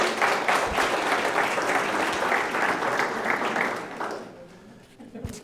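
An audience at a city manager finalist forum applauds, with steady, full clapping for about four seconds that thins out and fades, leaving faint room noise and a stray sound at the end.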